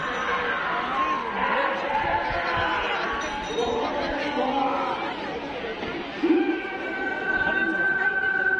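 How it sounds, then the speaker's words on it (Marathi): A large crowd gathers at night at a Mahashivratri bullock cart race festival, with many voices chattering together in a steady, dense murmur and an occasional brief clink or shout rising above it. "लईच गर्दी आहे."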